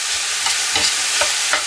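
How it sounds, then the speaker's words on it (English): Ground beef sizzles steadily as it fries in a pan, with soft scraping and stirring strokes breaking it up at a regular rhythm. The sound is close and carries no talking. "Now we're going to break up the beef and we're going to cook for 6 to 8 minutes"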